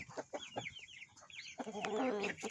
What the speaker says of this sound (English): Chickens like that bread.